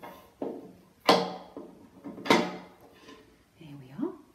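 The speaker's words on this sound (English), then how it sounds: "We're going to line up these silver screws to these holes." Top plate of a floor stand being fitted onto silver screws, giving several sharp clicks and knocks of metal and wood parts at close range, spaced irregularly, with a brief voice at the end.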